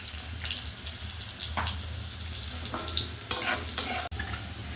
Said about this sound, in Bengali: আলুগুলো একটু ভাজা ভাজা হয়ে গেছে